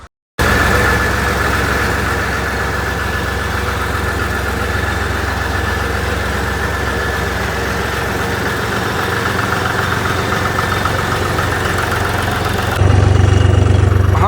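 A tractor engine idles loudly and steadily after a cold start, a deep constant rumble with a faint knock, growing a little heavier near the end.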